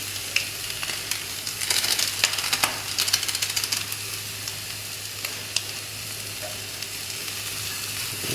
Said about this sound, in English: Let's just stir fry this